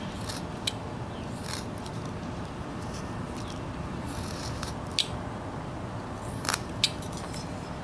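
Scissors snip hair on a carved wooden figure, with a few small, sharp cuts spread over a steady background hiss.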